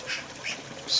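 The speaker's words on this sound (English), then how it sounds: "Excuse the blackbirds screaming at each other" Blackbirds scream at each other in shrill, harsh bursts while nesting, three sharp calls in one second, fairly close and loud, the last the strongest, with no talking over them.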